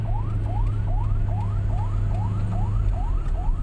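Ambulance siren in traffic on Jalan Pangeran Antasari in Jakarta: a loud, fast repeating whoop, each short rising sweep following the last about every third of a second, over a steady low rumble of engines.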